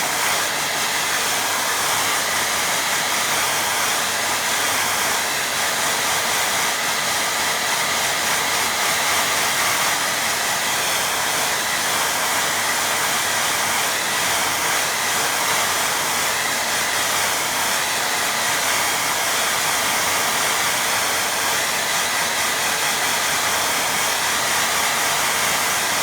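A hair dryer blows steadily and loudly on a watercolour painting, a constant broad whooshing roar that runs unbroken for the whole stretch with no voices.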